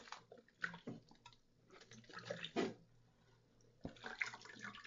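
Water sloshing and splashing in a sink or tub as a worn stuffed toy losing its stuffing is hand-washed in warm water, with intermittent bursts of wet rubbing and dripping close to the microphone.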